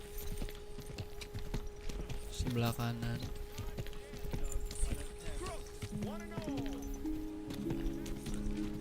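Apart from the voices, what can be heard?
horse hooves clip-clopping in video game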